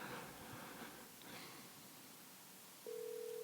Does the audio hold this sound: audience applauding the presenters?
no